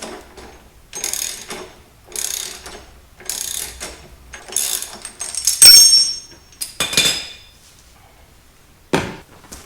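A long T40 Torx bit loosens a bolt on a Harley Street Bob passenger peg bracket, making a series of close, sharp ratcheting clicks in short bursts separated by pauses.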